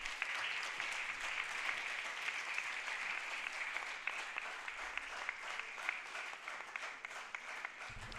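An audience claps at the launch of a campaign against child hunger and malnutrition, a steady, even roar of applause held for several seconds, fairly soft and distant.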